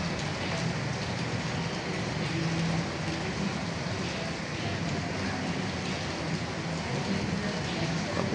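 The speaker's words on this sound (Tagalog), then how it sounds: "Pabugso-bugso ang ulan." Steady rain pours down around a seamen's dormitory perimeter area, a dense continuous hiss with no clear breaks, loud and close throughout.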